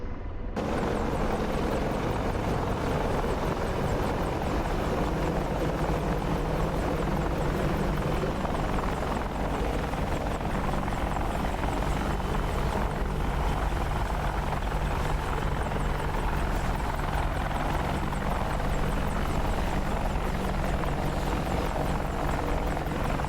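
An AH-64 Apache helicopter in the DCS World flight game drones steadily with loud, continuous rotor and engine noise throughout.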